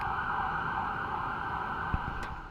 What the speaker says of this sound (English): you can enjoy a New York City siren as Vic Henley lets Judd in.